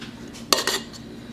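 A metal pot knocked and clattered as it is handled and set down, one sharp clank followed by a short rattle, close and alone against a quiet room.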